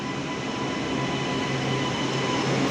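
A Milan metro train rumbles steadily nearby inside the carriage, a continuous loud roar with a faint rising whine toward the end, and no voices.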